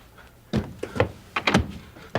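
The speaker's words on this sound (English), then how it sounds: "Come on, open the door." A door is opened with several dull thumps and knocks spread over a couple of seconds, close by and fairly quiet against a near-silent room.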